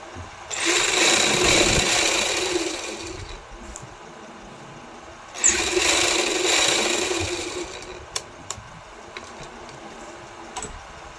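A sewing machine stitches the lining of a kameez in two steady runs of rapid whirring, each lasting a few seconds and separated by a quiet pause, followed by a few small clicks.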